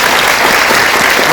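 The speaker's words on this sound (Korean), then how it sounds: "박수 한번." Audience at a film festival Q&A for a documentary at the Busan International Film Festival applauds, a dense, loud, continuous wash of clapping filling the whole moment.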